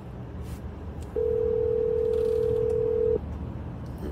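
A steady telephone tone sounds alone for about two seconds while a phone call is being placed, clear above a low background hum.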